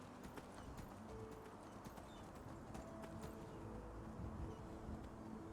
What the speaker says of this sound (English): Time to get off the horse.